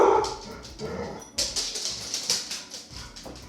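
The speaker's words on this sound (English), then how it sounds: "One of them is just standing by the door barking." A dog standing by a door gives a run of short, sharp barks and yips nearby, repeated several times in quick succession.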